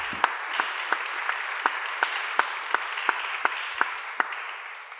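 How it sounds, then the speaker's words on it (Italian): An audience claps at a book presentation for the Einaudi novel "Una zanzara nell'orecchio". A soft spread of applause runs under a few sharper, evenly spaced claps from one nearby person. "facciamo di nuovo un ulteriore applauso"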